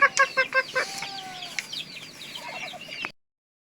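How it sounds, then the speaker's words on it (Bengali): A brown desi hen mottled with black and white clucks in a quick run of five sharp notes, followed by softer muttering clucks and a few higher calls, close by with no talk. "আমাদের সামনে যে খয়েরি মুরগিটা দেখা যাইতেছে"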